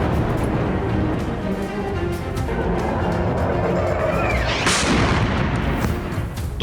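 Explosive weapons fire in a Turkish military operation over Ankara at sunset, a continuous loud, heavy rumble of blasts with a rising whistle-like streak partway through.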